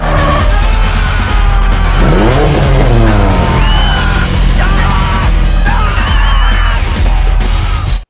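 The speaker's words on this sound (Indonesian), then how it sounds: "Terlihat kini Sean melakukan drift seperti seorang profesional" A car drifts in a street race scene from a film, loud sustained tire squeal and engine roar with swooping pitch sweeps, dense and continuous throughout.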